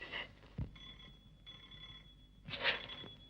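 An old telephone rings in a house in a 1952 Hindi film, with faint, brief bursts of bell ringing separated by a quiet pause.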